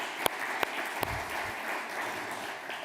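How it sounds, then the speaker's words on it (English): Audience applause at a sports and recreation forum in Ljubljana, a steady wash of clapping from a crowd with a few sharper individual claps standing out, filling the room evenly throughout. "I would like to give a big applause to Miro Cerar."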